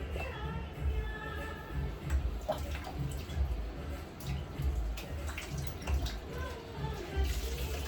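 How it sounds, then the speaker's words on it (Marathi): Dishes being scrubbed and rinsed under a running kitchen tap, a steady close water stream with scattered clinks and splashes throughout; a faint voice may be present in the background. "भांडी घासते आता."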